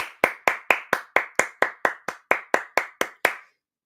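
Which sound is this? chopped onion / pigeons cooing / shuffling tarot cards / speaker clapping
speaker clapping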